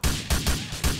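Four loud, sharp rifle shots from a 5.56 weapon in the GTA 4 video game crack in quick succession, each with a brief decaying tail and no talk.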